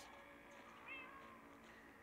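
Cats meow in the video game Minecraft Story Mode, Episode 6. One short, faint meow rises briefly over a quiet, soft game background.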